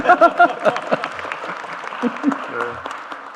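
Audience applause breaks out at a formal Korean event in Ulsan where the culture minister is speaking with the president present; loud bursts of clapping come first and mix with voices and laughter before thinning out.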